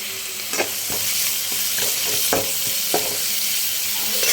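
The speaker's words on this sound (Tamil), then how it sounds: "வெங்காயம் தக்காளி பச்சை மிளகா கருவேப்பிலை எல்லாத்தையும் ஒட்டுக்காக போட்டுக்கிறேன் ஒட்டுக்காக போட்டு நல்லா வணக்கிக்கிறேன்" Onion, tomato, green chili and curry leaves sautéing together in a pan for egg kothu parotta, a loud steady sizzle broken by several soft stirring scrapes, close up with no voices.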